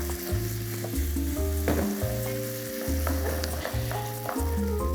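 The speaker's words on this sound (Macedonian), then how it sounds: "Месото убаво си се пржи." Small diced beef cubes frying in a pan, a loud, close, continuous sizzle with steady crackle, alone without any talk.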